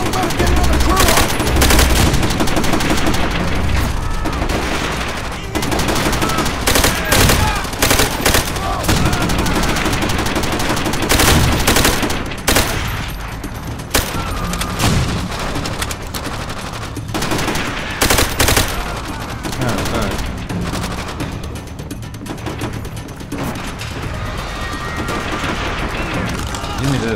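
Sustained bursts of heavy machine gun fire rattle through a Call of Duty story battle, dense and loud with brief pauses, mixed with other battlefield gunfire, explosions and shouted voices throughout.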